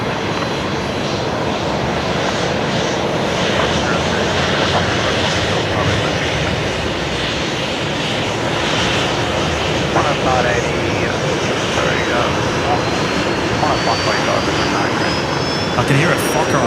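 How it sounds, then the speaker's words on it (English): Aircraft engine noise from a Fokker starting up at Brisbane Airport, a steady broad roar with a faint rising whine, heard continuously with airport ambience. "I can hear a Fokker on startup."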